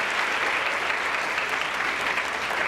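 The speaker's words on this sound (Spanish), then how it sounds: "Les pido un aplauso, por favor, para quienes van a tomar parte en este programa." Steady, dense applause from a studio audience greeting the guests of a Spanish-language science and culture TV programme, loud and unbroken throughout with no voices over it.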